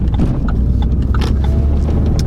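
A Renault Sport Megane 250RS engine fitted with a K-TEC induction kit, a steady loud low rumble with throaty intake character held evenly throughout, close up with no voices.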